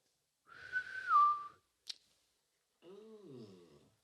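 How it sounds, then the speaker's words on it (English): Three short whistles in the jungle come close and clear against near silence, first a rising-and-falling tone, then a brief sharp burst, then a lower wavering call. "a whistle in the jungle"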